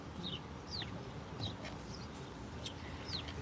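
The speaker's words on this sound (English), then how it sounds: "listening to these birds chirp away" Several birds chirp with short, bright calls scattered over a steady background hiss; the calls are fairly faint and spaced irregularly.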